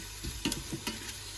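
Chicken searing with salt in a Ninja Foodi Max pot, close steady sizzle with a few scraping stirs of a utensil across the bottom.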